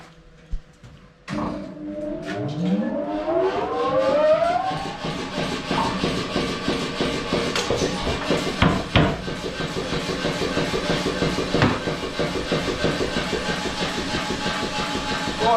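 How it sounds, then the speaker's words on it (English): Blacksmith's power hammer started up for hot cutting, rising from a whine into a steady, loud, continuous mechanical rumble and rapid clatter of blows that runs on without talk. "turn the hammer on now"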